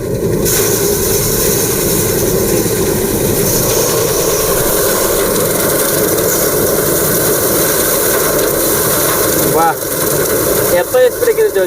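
An electric-motor-driven rice paddy threshing machine runs steadily with a loud, continuous droning rumble and rattle, alone with no talk, ending in a few clunks.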